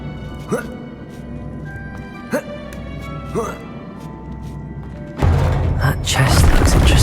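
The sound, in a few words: Depulso spell cast in Hogwarts Legacy video game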